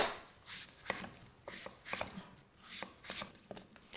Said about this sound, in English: And then also cut up into wedges.